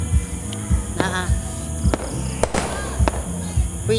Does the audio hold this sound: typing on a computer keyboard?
no